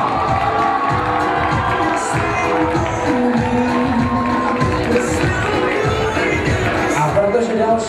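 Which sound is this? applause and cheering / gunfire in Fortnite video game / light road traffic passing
applause and cheering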